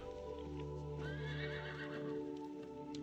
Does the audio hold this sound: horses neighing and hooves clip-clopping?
yes